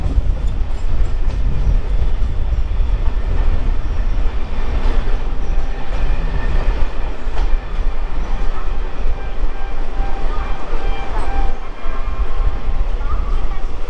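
A loud, sustained rumble comes from an Alstom three-phase EMU local train running on Eastern Railway's up line. Steady wheel clatter and rail noise carry on close by, with occasional higher squeals over the drone.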